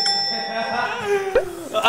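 A man imitates a wealthy house's doorbell with his voice, singing a short sequence of sustained, bell-like tones that slide and step in pitch, with a brief breathy break near the end.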